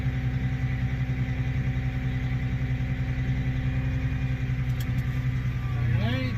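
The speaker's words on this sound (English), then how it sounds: "There goes the backhoe." A backhoe's diesel engine runs at a cold start, holding a steady, droning idle close by with little change from start to finish.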